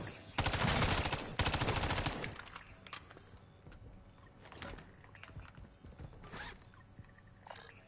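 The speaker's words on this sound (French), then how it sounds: "Une mitrailleuse, là." A machine gun fires in a PS5 zombie video game: two long, loud, rapid bursts, then scattered shots, clanks and footsteps, with faint game sounds behind.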